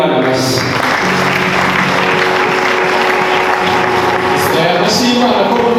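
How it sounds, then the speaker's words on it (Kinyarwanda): A church congregation claps steadily and loudly throughout, a dense continuous wash of applause with no spoken voices. "Dukomere Imana amashyi."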